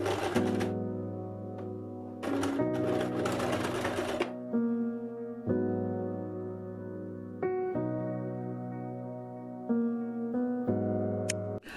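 A sewing machine stitches a simple tunic in several runs of steady mechanical whirring, broken by brief pauses and clicks, heard close and alone.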